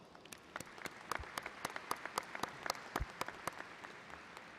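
An audience at a community college commencement ceremony breaks into steady applause, a dense patter of many hands clapping, somewhat distant and even throughout.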